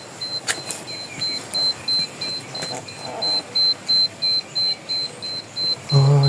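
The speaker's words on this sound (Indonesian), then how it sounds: "Tokennya udah mulai bunyi karena mungkin nggak ada yang tinggal di sini." In an empty house, a prepaid electricity token meter gives a steady run of short, evenly spaced high beeps about twice a second, close and clear, with faint background noise and a thump at the end.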